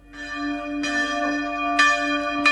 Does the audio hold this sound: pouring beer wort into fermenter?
no